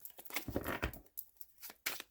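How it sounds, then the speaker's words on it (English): Tarot cards being shuffled by hand, a few quiet papery riffling bursts separated by short pauses, close and soft. "I do feel I need to give these a good shuffly doodah."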